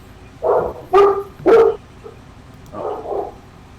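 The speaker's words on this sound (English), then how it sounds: "Noisy dog." Dog barking in short bursts, three sharp close barks in quick succession followed by a softer, lower pair of yips after a pause.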